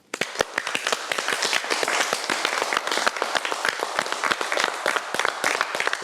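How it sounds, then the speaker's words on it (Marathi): Studio audience applause on a reality TV show set, a dense, sustained burst of many hands clapping close and loud, with a few sharper individual claps standing out. "स्वतः टाळ्या वाजवतो"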